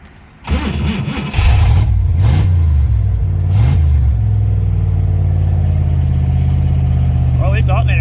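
A Ford Mustang Fox body engine cranks and fires after 18 years of sitting, then settles into a loud, steady idle close by, with a brief higher whine near the end.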